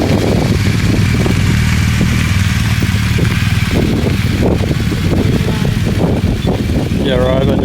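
Adventure motorcycles pass on a mountain road in Triglav, Slovenia, a steady loud engine drone with rising and falling passes throughout, as people talk over it.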